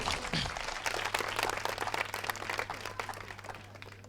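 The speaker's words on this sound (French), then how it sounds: "Veuillez applaudir." Studio audience applause at a televised quiz show, dense clapping that fades slightly toward the end, accompanied by a steady low hum underneath.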